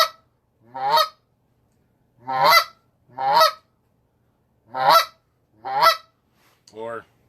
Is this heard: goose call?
yes